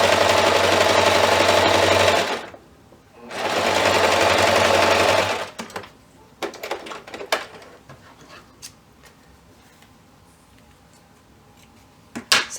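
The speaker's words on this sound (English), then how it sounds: "We're just going to stitch them 1/4 inch, just like we did all the other stuff." A sewing machine stitches fabric to mesh with a quarter-inch seam in two loud, steady whirring runs split by a short pause. Quieter handling clicks and rustles follow, and no one talks.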